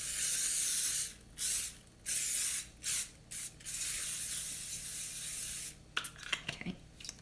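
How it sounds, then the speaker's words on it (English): Cooking spray hisses into a 9 by 13 baking pan in several bursts: a long spray, a few short ones, another long spray, then some rattling handling noises. "And it's going to go in this 9 by 13 pan, and we're going to go ahead and spray."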